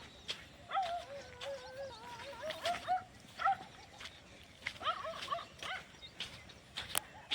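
Dogs barking and yipping out on a road, faint and somewhat distant, in scattered short bursts with brief whining cries over a quiet outdoor background.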